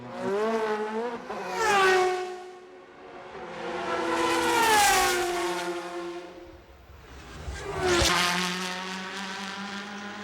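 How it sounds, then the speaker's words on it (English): An Audi Le Mans prototype race car at the 2002 24-hour race roars away from a pit stop, its engine rising through several sharp gear-change sweeps, loud and close with no talk over it. "We'll take a step back now because Audi number 1 blasts away."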